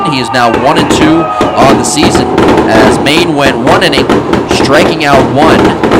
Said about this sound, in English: You can hear the fireworks going off in the background.